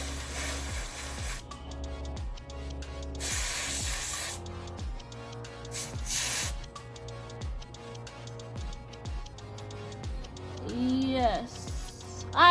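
Several bursts of hissing aerosol spray, each lasting about a second, as temporary hair color spray is applied to microlocs, over background music with a steady beat.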